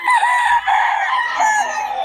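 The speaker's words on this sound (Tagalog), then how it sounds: "Puro solid na mga manok ng Boss Tony ngayon, mga idol." A rooster crows loudly and close by, a long harmonic call rising and falling over about two seconds with a short break partway through.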